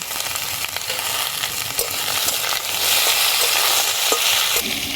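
Pumpkin pieces with salt lightly frying in a pan for a mashed pumpkin dish, a steady close sizzle with occasional stirring scrapes, no voices.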